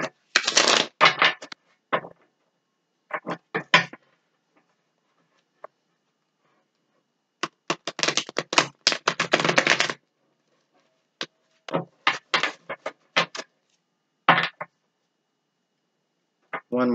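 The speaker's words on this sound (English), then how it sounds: "Give it a couple shuffles." Universal Tarot cards are shuffled by hand in several separate bursts of crisp riffling and slapping, close up and alone, with quiet pauses between each round.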